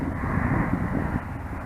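A small Flitework/Skywing Red Bull T-28 RC model airplane's engine whines steadily overhead, a continuous buzzing drone that stays fairly loud throughout.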